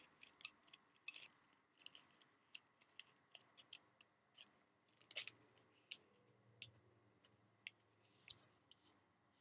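Scissors snipping shapes into folded paper for a homemade paper snowflake, a run of crisp, close cutting clicks in irregular bursts with brief pauses, no talking.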